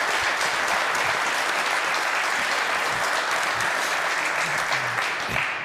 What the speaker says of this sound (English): So let's cheer for Lackawanna.